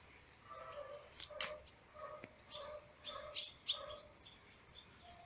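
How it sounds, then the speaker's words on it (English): Small birds chirp and tweet in short scattered bursts, faint and somewhat distant, over a soft hiss of background noise. "Beautiful little birds,"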